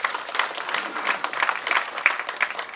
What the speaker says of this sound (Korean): 우리 크게 다시 한번 박수 부탁드립니다.